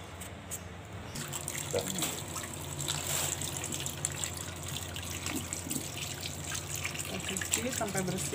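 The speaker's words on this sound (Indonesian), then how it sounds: "Cuci sampai bersih pepayanya." Running water from a tap washes peeled, seeded raw papaya in a kitchen sink, a steady trickle and splash with clattering handling throughout.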